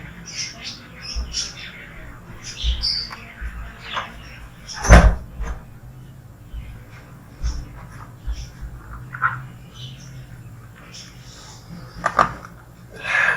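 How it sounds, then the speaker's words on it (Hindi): A door in a home is shut once with a single sharp thud, close and loud, standing out over faint room noise and chirping birds outside. "मैं दरवाजा बंद करने गया"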